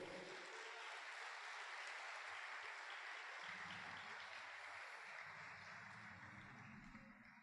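A church congregation applauds steadily during a worship service, a dense wash of clapping that holds for several seconds and slowly fades at the end.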